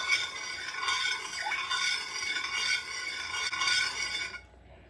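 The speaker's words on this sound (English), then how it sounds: "Stir until well blended" A spoon stirs vanilla extract into homemade slow cooker apple cider, giving a close, continuous swishing and scraping in rhythmic circular strokes with faint clinks, ending abruptly near the end, no speech.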